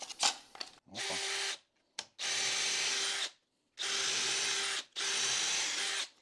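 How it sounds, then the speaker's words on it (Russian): A power drill bores holes for dowels during new house construction, whirring in four sustained bursts separated by short pauses, close and alone. "Дальше сверлим дырки и прикручиваем все это"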